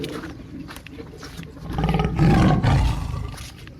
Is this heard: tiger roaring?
yes